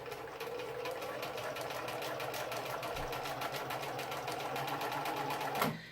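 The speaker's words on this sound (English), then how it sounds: "I'm going to hold my fabric, and I'm going to start sewing" A sewing machine stitches fabric in a steady, rapid mechanical whir with a fast regular needle rhythm, close and even for several seconds before stopping abruptly.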